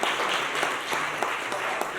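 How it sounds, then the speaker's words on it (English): A short burst of applause from a workshop audience in Lagos honouring an engineer, steady broadband clapping throughout, moderately loud and slightly distant in a room. "I think Engineer Lawa deserves another round of applause."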